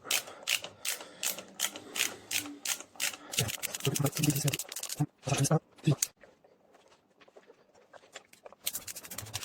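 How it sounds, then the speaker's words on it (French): Brake disc screws tightened on a Dualtron Eagle electric scooter, a fast series of close ratcheting clicks in bursts with brief pauses, and someone talks at intervals. "Donc on serre les vis à fond, inutile de serrer trop fort."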